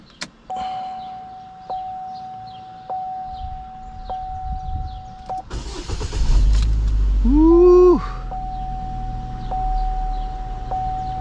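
A 2014 Chevrolet Equinox starting after an oil change: evenly spaced warning chimes, then a burst of noise, a rising starter whine as the engine catches, and a steady low idle rumble that follows, close and loud.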